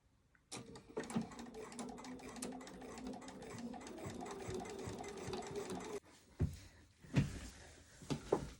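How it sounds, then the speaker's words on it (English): A domestic sewing machine runs steadily while stitching across a seam on a fabric tool bag, a close, continuous mechanical whir, then stops and is followed by a few thumps and handling noises. "so you've sewn across that seam"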